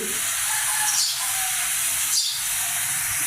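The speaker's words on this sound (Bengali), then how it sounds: "আমার পুরো ফ্ল্যাটে এত পাখির কিচিরমিচির সারাদিন মাথা যন্ত্রণা করে" Two short chirping bird calls from outside a kitchen window, about a second apart, rise above a steady hiss of background noise; no one speaks.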